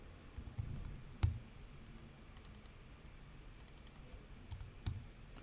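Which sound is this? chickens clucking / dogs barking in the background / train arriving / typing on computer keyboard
typing on computer keyboard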